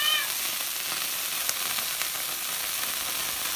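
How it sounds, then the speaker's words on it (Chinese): Celery fries in a pan in an outdoor kitchen: a continuous bright sizzle, close and fairly loud, with no voices. "然后咱们再煎一点这个芹菜"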